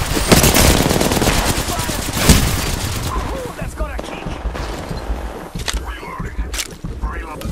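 Rapid bursts of automatic gunfire from an Apex Legends firefight, loud and dense at first, then thinning into scattered shots, with in-game voice lines talking over it.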